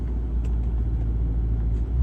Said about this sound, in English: and you can hear the difference in the exhaust